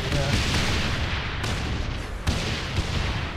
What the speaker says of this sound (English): Oh, there's so many explosions.